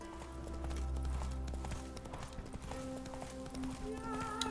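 Galloping horse hooves from The Witcher 3 video game, a steady run of clip-clop beats over game music and ambience, moderately loud and continuous throughout.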